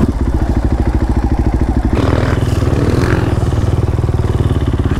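A Husaberg 450 motorcycle revs hard and close for wheelies, its single-cylinder engine pulsing rapidly and then surging into a louder, rougher roar.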